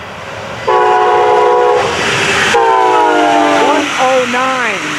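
A train horn blasts in long sustained chords, twice, then bends downward as the train passes close by, loud over steady rumbling rail noise.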